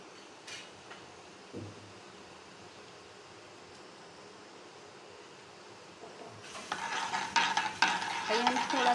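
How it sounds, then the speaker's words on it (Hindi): Cumin seeds and whole red chillies drop into hot oil: a quiet stretch with a couple of soft knocks, then a sudden, near crackling sizzle that grows louder over the last few seconds. "ये कि ऑयल मेरा गरम हो गया है, अब मैं इसमें डालूँगी ज़ीरा और साबुत लाल मिर्चें।"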